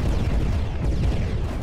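Deep booming cannon blasts in a destruction video game, a dense continuous rumble of repeated heavy low explosions with no clear gaps between shots.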